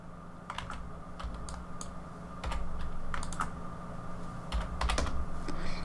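Typing on a computer keyboard while entering values in SketchUp Pro, a close run of quick key clicks in short bursts over a low steady hum.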